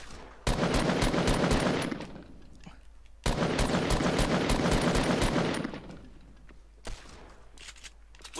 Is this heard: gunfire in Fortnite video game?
yes